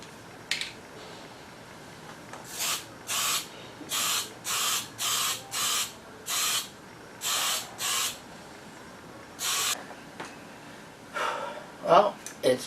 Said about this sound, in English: first job today is to just put some primer over the top of this seam sealer